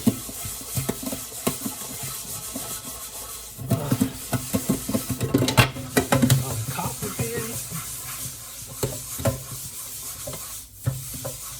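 Scrubbing of a burnt pot with a brush and vinegar, steady scratchy rubbing strokes at moderate volume that swell in the middle, with a voice talking faintly under the noise.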